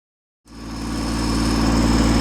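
A John Deere 322 tractor engine starts after a brief silence and settles into a steady, loud, close running drone with a low rhythmic throb.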